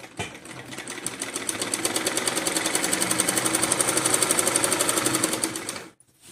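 A sewing machine stitching the fitting seam of a blouse, a fast even rhythmic whir of needle strokes, loud and close, running steadily for about five seconds before stopping abruptly.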